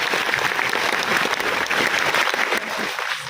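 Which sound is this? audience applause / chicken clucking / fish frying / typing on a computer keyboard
audience applause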